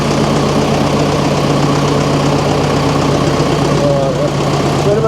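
A SAME tractor engine runs steadily with its rebuilt PTO gearbox spinning, a loud continuous idling drone with a low mechanical hum that holds evenly throughout, with no speech over it.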